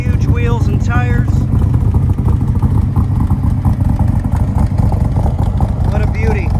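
A 1965 Shelby Cobra engine runs with a loud, steady, deep rumble throughout, while someone talks over it.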